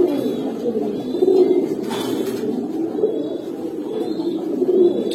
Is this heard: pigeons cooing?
yes